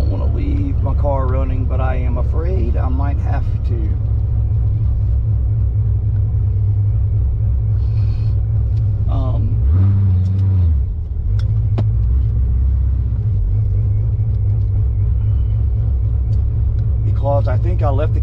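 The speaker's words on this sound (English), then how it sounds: "I don't want to leave my car running, but I am afraid I might have to." A Chevrolet Corvette Z06 (Gen V, Holley EFI port injection) idles at a gas station, a steady low rumble running throughout while someone talks over it.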